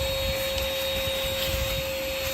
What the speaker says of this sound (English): So you can blow and vacuum everything except under the plants where there's just gravel, no glue, for watering.